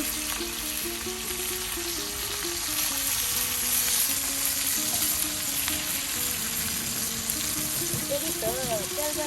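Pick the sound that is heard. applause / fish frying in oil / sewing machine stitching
fish frying in oil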